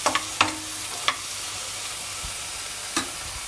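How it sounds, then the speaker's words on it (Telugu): Brinjal pieces fry in a pan with a soft, steady sizzle, while a few sharp stirring scrapes and clinks stand out clearly over the hiss. "ఇలా వేయించుకో, కొంచెం వేగనివ్వాలి వంకాయ"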